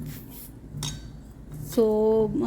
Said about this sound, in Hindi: इन सब चीज़ों को हम मिक्स एक थिक काइंड ऑफ पेस्ट बना लेंगे।